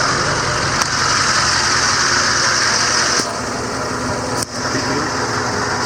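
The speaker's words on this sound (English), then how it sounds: "we're going to go ahead and turn the PTO on and give you a boom demonstration" 2008 GMC C5500 bucket truck with a 44 ft HI-Ranger double knuckle boom, engine running steadily with the PTO engaged, a constant near drone with a slight drop in level partway through.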